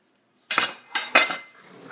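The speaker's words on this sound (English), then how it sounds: "I'm gonna grab a plate" Plate and cutlery handled in a kitchen while making toast, three bursts of clinking and clattering close by, the last one fading into a softer scrape.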